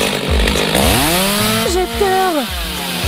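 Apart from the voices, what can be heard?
chainsaw cutting through layers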